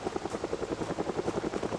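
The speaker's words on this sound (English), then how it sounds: "There is a random chance, whenever you're playing this game, that a helicopter will fly overhead." A helicopter passes overhead in a zombie survival video game, its rotor thumping in a steady rapid chop at moderate volume throughout.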